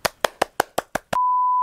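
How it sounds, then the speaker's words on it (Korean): Six quick, sharp hand claps land in an even rhythm, close and distinct, then a steady electronic beep tone holds for about half a second before one more short burst. "일단 박수 한번 치고 갈까요?"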